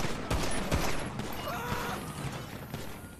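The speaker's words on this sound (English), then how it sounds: "I'm getting shot from the SWAT AR" Rapid gunfire from a SWAT assault rifle in Grand Theft Auto, a dense crackling fusillade of shots heard at a moderate distance through a noisy game scene, continuing throughout.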